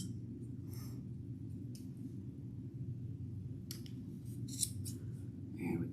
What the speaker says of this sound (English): take your scissors and you're going to cut the loops.